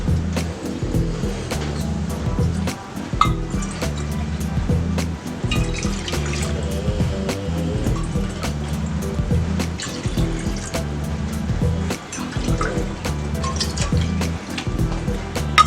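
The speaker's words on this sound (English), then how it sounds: "So firstly, you need to add 4 cups of water to the pan." Water poured from a tap into a pan for boiling pasta, a steady continuous splashing and trickling stream running close by for the whole stretch, with no one speaking.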